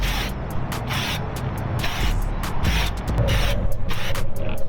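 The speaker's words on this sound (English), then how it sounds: "We're gonna go ahead and spray a thin film on here" Short hissing bursts of aerosol oil sprayed onto a K&N air filter, repeated in quick irregular pulses, close by, over a low rumbling background.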